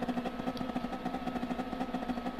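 Revving of a Toyota GT86 engine in a racing game at the race start: a steady, held engine drone with a rapid pulsing rhythm, loud and continuous with no talking.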